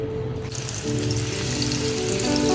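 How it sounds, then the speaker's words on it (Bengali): Pieces of fish frying in a pan, cooked until reddish-brown in a home kitchen; a continuous crackling sizzle holds close and steady throughout, growing slightly louder toward the end, with no talking. "মাছগুলো সব দিয়ে একটু লাল লাল করে ভেজে নেব"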